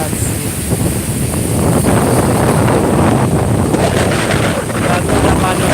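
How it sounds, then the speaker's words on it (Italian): Strong wind buffets the microphone at a stormy seashore with an agitated sea, a loud continuous roaring rush of noise that stays steady throughout, close and overwhelming, with no clear speech. "Un forte vento ragazzi, come potete vedere."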